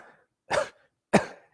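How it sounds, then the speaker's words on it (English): Two short, light coughs, spaced about half a second apart, are pushed out forcefully during a Kapal Bhati yoga breathing exercise; they sound close and clear, with silence between them. "try to do a little coughing"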